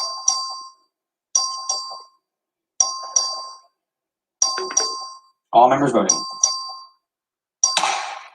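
A voting bell in the Texas House chamber, rung by the clerk, sounds as a series of bright electronic chimes in evenly spaced bursts with short silences between, one ring overlapped by a brief spoken announcement.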